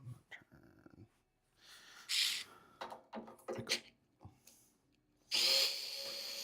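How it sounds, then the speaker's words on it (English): A power drill whirs in short bursts to back screws out while a device is taken apart, with close intermittent spins, brief pauses and handling noises between them. "take all the screws out."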